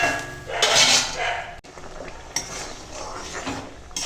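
Lentil dal is poured into a pot with pumpkin flowers, a rushing liquid splash and bubbling hiss mixed with clanks of metal utensils and pot knocks, close and fairly loud.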